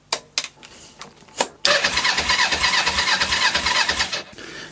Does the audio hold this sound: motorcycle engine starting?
yes